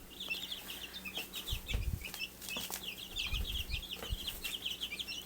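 Twenty-six sex-linked replacement chicks, two and a half weeks old, chirp in a steady high cheeping chorus close by, with occasional soft thumps and rustling underneath.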